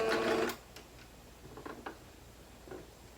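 A sewing machine back stitches thread on a fabric face mask, a short fast whirring burst up close, then quiet with a few faint taps and clicks.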